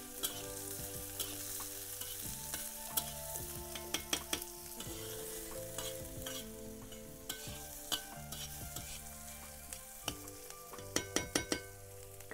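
Chopped onion and green chili fry in a pan with a steady, close sizzle while a spoon stirs them, scraping and tapping the metal now and then.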